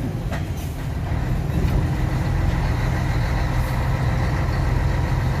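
A heavy truck engine running steadily at night during an unloading stop, a loud continuous low rumble and drone that holds even throughout, with no voices.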